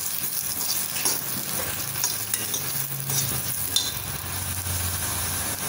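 Sliced onions frying in oil for egg kurma, a continuous close sizzle with occasional stirring scrapes and clinks of a spoon against the pan, no talking.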